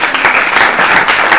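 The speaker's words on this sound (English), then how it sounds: "Thank you very much. Round of applause." An audience applauds at a youth awards presentation, with dense, steady clapping that fills the brief moment loudly and evenly, without a pause.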